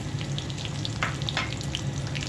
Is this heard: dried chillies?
yes